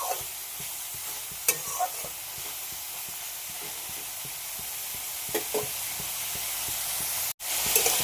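Soybean chunks fry with tomato, a small cinnamon stick and cardamom in a pan, giving a steady sizzling hiss broken by occasional stirring scrapes and clinks, close and fairly loud throughout.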